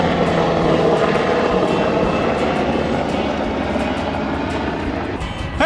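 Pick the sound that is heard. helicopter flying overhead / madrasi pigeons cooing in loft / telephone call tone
helicopter flying overhead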